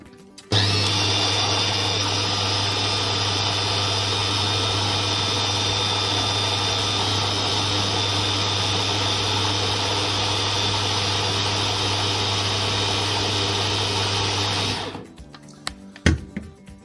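A food processor chopping for homemade hummus whirs loudly and steadily for about fifteen seconds, a constant high motor drone, then stops abruptly, leaving a few small clicks.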